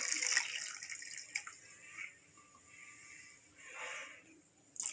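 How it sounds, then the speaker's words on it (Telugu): Water poured from a glass onto torn pieces of chapati dough for wheat-flour halwa, a soft splashing pour that swells and fades in a few waves, fairly quiet with no talk. "ఇందులో కొంచెం ఒక 2 గ్లాసుల వాటర్ని యాడ్ చేసుకోవాలి"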